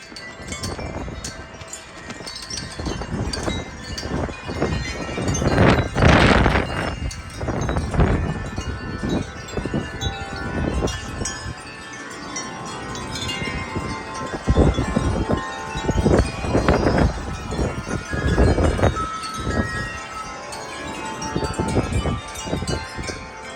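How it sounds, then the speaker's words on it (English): Strong wind gusts buffet the microphone on a blustery day, a steady roar surging into loud rushing blasts at intervals, with rattling and knocking noises mixed in and no voices. "there's another gust coming"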